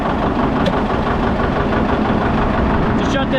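Steady, loud rumble of a tractor engine idling close by, a continuous even drone with no breaks.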